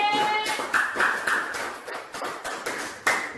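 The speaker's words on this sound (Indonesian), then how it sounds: "Kasih aplaus untuk kelompok C" Applause for a student group in a classroom: a short round of irregular claps and taps, moderately near, with a voice speaking briefly over the start.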